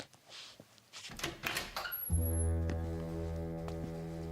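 A door opens in a radio drama, a short creak and clunk, followed by a steady low tonal hum that swells and holds, close and moderately loud, with no voices.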